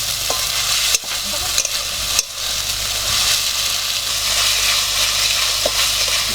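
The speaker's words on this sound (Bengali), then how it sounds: "আদা রসুন বাজাটা দিয়ে দিলাম হ্যাঁ? ভালো করে কষিয়ে নিতে হবে" Ginger garlic paste sautéing in a pan makes a loud, continuous sizzle broken by scraping stirs and a few sharp knocks of the spoon against the pan, with nobody talking.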